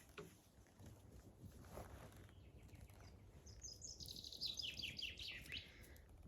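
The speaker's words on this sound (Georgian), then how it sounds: "ჭიტების ხმას ხო ისმენთ მეგობრებო, თუ ისმის" Birds chirp outdoors, faint and somewhat distant. A quick run of high, twittering calls rises in the second half over a quiet background broken by a few soft knocks.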